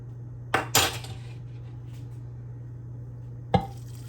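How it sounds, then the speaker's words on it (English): Two cans of black beans are drained in a kitchen, heard as a few clanks of metal cans against a pot or sink, with two quick knocks early and one more later over a low steady hum. "you want to drain your beans"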